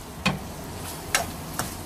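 Garlic goes into a hot pan for Filipino ginisang monggo, giving three short, sharp sizzling bursts spaced apart over a faint steady background.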